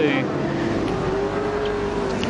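Super sedan race cars drone steadily on a racetrack, a loud sustained engine whine with a slowly shifting pitch under a race commentator's talk.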